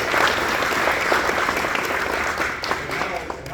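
Audience applause at a school signing day, a full burst of clapping that rolls on for a few seconds with some voices mixed in near the end.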